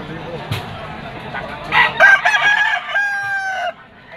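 A gamecock rooster crows loudly and close by, a single drawn-out call rising and holding, with faint background farmyard noise.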